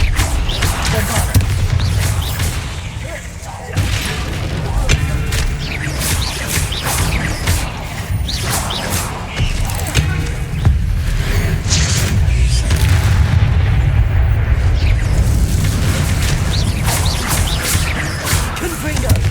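Bombarda spell blasts in the video game Hogwarts Legacy, heavy booming impacts repeating through dense combat noise with whooshes and sharp hits, loud and continuous, with shouted spell calls over the top.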